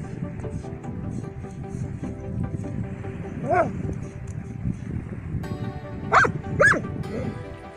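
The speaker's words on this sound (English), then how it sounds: "This dog tries to help out his fish friend." A dog gives a few distinct barks and yelps, spaced apart, over a busy background of water and outdoor noise, with a voice faintly present.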